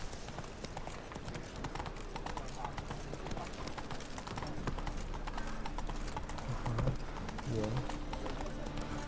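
Roach the horse's hooves in The Witcher 3 give a steady galloping clip-clop with a brief whinny, and someone speaks quietly once over the hoofbeats.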